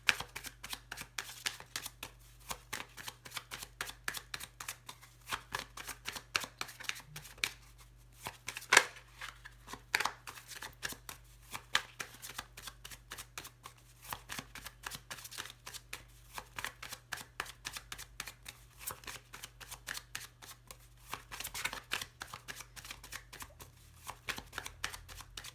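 A deck of Lenormand cards shuffled continuously for about twenty-five seconds, with soft repeated riffling and flicking that stays quiet and close, over a low steady hum.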